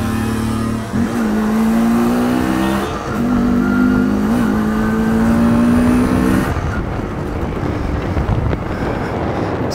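An MZ ETZ 250 or 251 two-stroke motorcycle engine revs up and holds a steady buzzing drone, dipping briefly between pulls, with wind noise buffeting the microphone; the engine cuts away near the end, leaving rushing wind and road noise.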